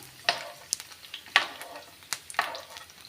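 Grated coconut and cashews frying in a pan, sizzling softly as a utensil stirs them in three or four distinct scraping strokes, close and clear.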